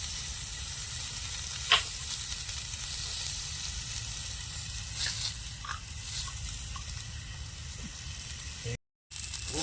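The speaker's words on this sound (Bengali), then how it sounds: "আমাদের বেগুন ভাজা কমপ্লিট" Eggplant slices sizzle in hot oil, a steady broadband frying hiss running throughout with a few sharp pops and brief crackles, and a short dropout near the end.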